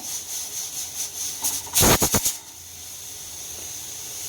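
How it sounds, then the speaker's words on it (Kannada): A pressure cooker full of country chicken sambar lets off a burst of loud hissing steam lasting about half a second, set against a quieter kitchen hum. "ನೋಡಿ ವಿಷಲ್ ಕೂಡ ಆಗ್ತಾ ಇದೆ"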